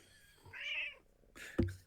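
A house cat meows indoors, a drawn-out nearby call followed after a short pause by a sharper second meow and a soft thump, fairly quiet with no talking over it.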